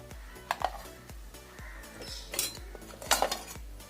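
Cutlery and plates clink and scrape in a run of irregular knocks and bright rings at a home lunch table as fish curry, rice and vegetables are served up.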